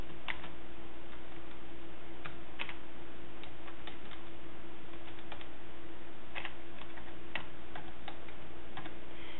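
Steady light clicking of a computer keyboard as a job description is typed, irregular taps heard over a constant low hum and background noise.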